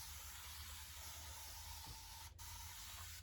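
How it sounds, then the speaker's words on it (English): A spray bottle mists water onto wrinkled fabric before hand pressing, a steady soft hiss lasting a few seconds with a brief break near the end. "I'm just gonna spray that pretty good"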